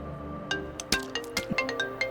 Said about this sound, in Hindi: ए ब्रो, फोन उठा, बात करो।